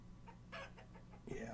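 A hen in the video game Vintage Story gives a few short, quiet clucks followed by a brief rising squawk, faint and close.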